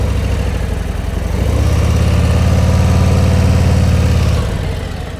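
A motorcycle engine idles steadily during slow-speed clutch practice, its low throb swelling slightly through the middle and easing off near the end, with no voices.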